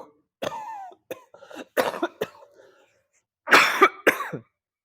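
A few short coughs and throat clearing close by, separated by quiet gaps, with a harsher pair of coughs near the end.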